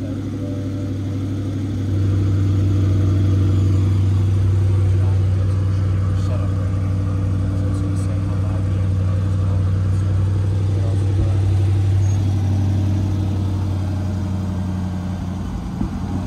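A 2021 Corvette convertible starting up, its engine settling into a loud, steady idle with a low rumble and a slight rise in revs, close by throughout.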